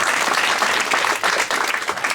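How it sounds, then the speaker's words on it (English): A crowd at a campaign stop in Mt Vernon, Iowa claps steadily, a dense wash of many hands close and loud, with a brief dip midway and no speech over it. "You guys clapped over the closer."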